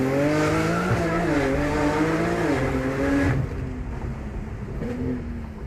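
A car launching hard with traction control switched off, engine revving high as the tires spin and squeal through the run, loud and close, then the engine note drops sharply near the end.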